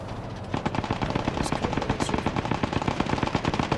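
Sustained machine gun fire from an aircraft strafing run in the Squad 44 World War II shooter game, a dense, continuous rattle of rapid shots with a rumbling low end, loud and steady throughout.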